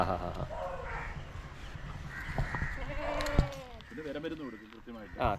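Goats bleat on a farm that also keeps Vechur and Punganur cattle, several short wavering calls breaking out at close range over a steady murmur of background noise.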